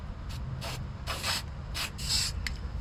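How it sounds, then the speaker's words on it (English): Several short bursts of aerosol spray hiss, some quick and some held for about half a second, fairly close over a low background rumble. "Spray paint this."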